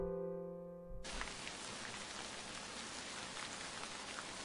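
Heavy, large-drop rain suddenly starts pouring down after a moment of faint tonal music, then keeps up as a dense, even hiss to the end.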